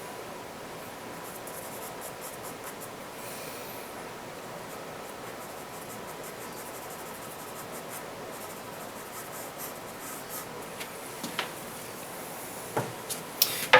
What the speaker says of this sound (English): I come in with the charcoal pencil